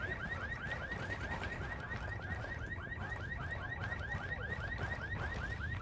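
Car alarm in the tactical shooter Ghost Recon Wildlands wailing in a steady, repeating rising whoop pattern over a constant low rumble, continuous and fairly prominent throughout with no talking.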